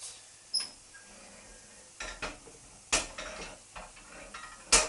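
Food is lifted off a hot, heavy griddle pan using a cloth: a few sparse, quiet metallic clinks and taps separated by pauses, with no voices.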